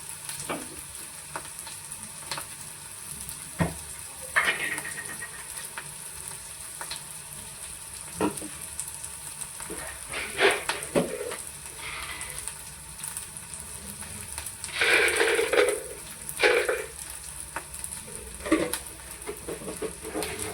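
Capsicum palya lightly frying in oil in a pan gives a steady sizzle throughout, broken by scraping stirs and clinks as the pieces are tossed.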